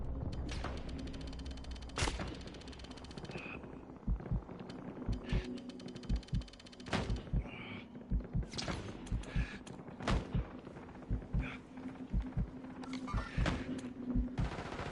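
Repeated gunshots and bursts of automatic fire in the Warzone video game crack out in irregular clusters over fifteen seconds, close and punchy against a quieter background hum.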